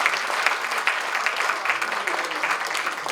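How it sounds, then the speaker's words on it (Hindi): Loud, sustained clapping from a poetry-recital audience, a dense steady patter of many hands filling the space without pause. "बहुत जोरदार तालियां भाई जितेंद्र जी के लिए।"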